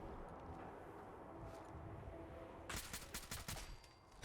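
An assault rifle fires in Fallout 4, a quick burst of several sharp shots in the final seconds following a quiet stretch of low ambient game noise.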